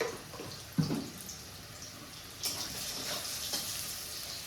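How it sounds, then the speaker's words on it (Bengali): Eggplant slices fry in hot oil with turmeric, a faint continuous sizzle with a couple of louder spatters and scraping touches, close but quiet, no talking. "এই একইভাবে ভেজে নেবো, একটু কড়া করে ভাজবো আর কি।"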